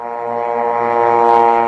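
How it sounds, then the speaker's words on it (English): A drone buzzes overhead in Gaza, a loud, steady, droning hum that holds without a break for the whole stretch, with no voices over it. "you'd never be able to get rid of this zannane, which means buzzing overhead"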